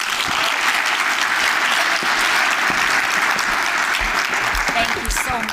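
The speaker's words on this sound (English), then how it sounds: "let's give her one more round of applause" An audience at a business event for small enterprises bursts into sustained applause, dense clapping filling the whole stretch at an even level, with a few louder claps near the end.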